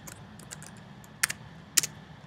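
A computer keyboard being typed on to enter a username, with a few quick soft taps followed by two sharper keystroke pairs, close and clear with no voices.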